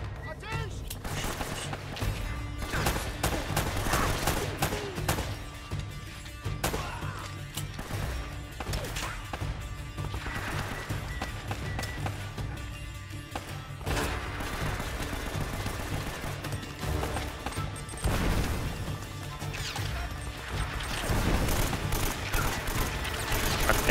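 Heavy gunfire in the PS4 game Uncharted: Drake's Fortune, with dense bursts, impacts and crashes rolling continuously for the whole stretch, loud throughout, with speech mixed in at times.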